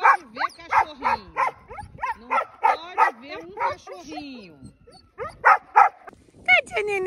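A small dog barks in quick, high yips. The barks come in rapid bursts with brief pauses, close by, and a few whiny tones mix in toward the end.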